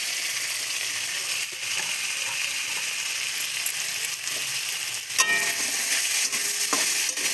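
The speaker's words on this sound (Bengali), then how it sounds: "আলু বেগুন ভাজা হয়ে গেছে। এবার দিয়ে দেবো আদা লঙ্কা আর জিরে।" Ginger, green chili and cumin frying in hot oil in a home kitchen, with fried potato and aubergine in the pan, crackling in a steady loud sizzle, with sharper spattering bursts and scraping stirs toward the end.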